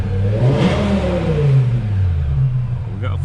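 BMW M5 with the S85 V10 engine revving loudly up close, the pitch sweeping up and falling back through several throttle blips, with a voice briefly heard near the end.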